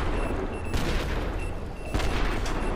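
Explosions in the game Badland, two sharp booming blasts roughly a second apart over a steady noisy game background, loud and close with no talking.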